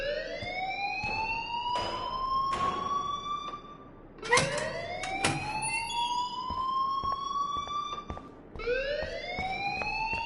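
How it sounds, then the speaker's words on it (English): An alarm in the Life is Strange video game wails in long rising sweeps, three loud cycles with sharp clicks and thumps between them and no voices. "please turn off that alarm since that's your job"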